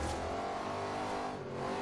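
A Ford F-150 SVT Raptor pickup truck drifting through tight corners in Forza Horizon 2, its engine droning steadily and fairly quietly with a faint tire squeal, alone without talk.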